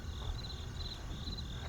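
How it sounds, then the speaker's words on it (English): Crickets chirp steadily in a quiet, empty-sounding stillness, a faint, even, repeating trill used as a comedic silence effect. "crickets."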